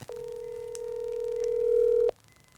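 A telephone ringback tone sounds as a prank call connects, a single steady electronic beep held for about two seconds, close and clear, then cutting off.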